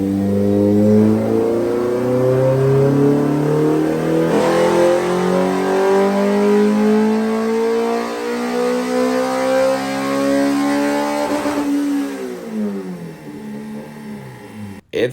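A Honda B16A engine screams on a dyno, climbing steadily in pitch through a long, loud full-throttle pull toward an 8,800 RPM limit, then dropping off sharply as the throttle closes.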